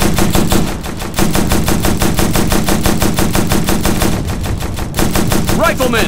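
Rapid automatic gunfire rattles in the video game Operation Flashpoint: Red River, loud and close in sustained bursts with a short pause near the middle and a voice briefly heard at the end.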